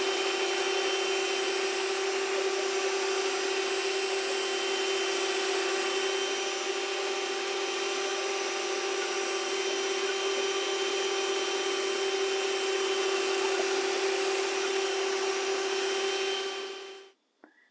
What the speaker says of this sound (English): I'm not going to fold it in, I'm going to use my mixer